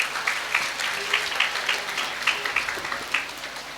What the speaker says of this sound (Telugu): మరొకసారి గట్టిగా చప్పట్లు.